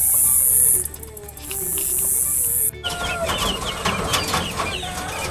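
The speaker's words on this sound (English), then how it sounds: "I had some guineas gifted to me." Guinea fowl kept near a fall vegetable garden give repeated harsh, scratchy calls close by, with a loud high hiss early on and busier clucking chatter in the second half.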